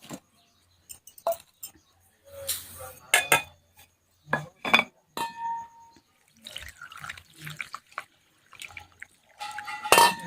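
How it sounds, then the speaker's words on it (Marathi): Barnyard millet being washed in water in a kitchen, with irregular clinks of a metal vessel and utensil, splashes and drips separated by quiet gaps. "आता दोन पाण्याने आपण भगर धुवून घेऊ व्यवस्थित"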